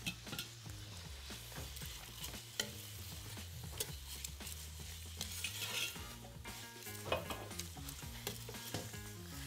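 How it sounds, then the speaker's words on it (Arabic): Onions, chicken and button mushrooms fry and are stirred in a pan, with a steady close sizzle broken by repeated scraping and clinking of the utensil against the pan, no voices. "نكرملوا البصل تاعنا ونزيدوا نحطوا الدجاج ولي شامبينيون نزيدوا يتقلاو تري بيان مع البصل"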